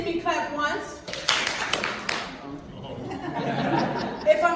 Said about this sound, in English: If you can see me, clap once.